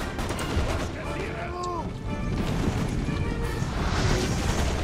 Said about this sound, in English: This Russian is firing on my man.